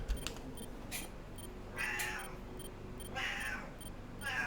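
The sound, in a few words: cat meowing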